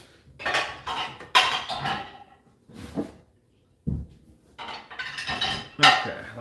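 Dishes, pots and cutlery washed by hand at a sink, in irregular bursts of clinking, clattering metal and ceramic knocks separated by short pauses, close and fairly loud.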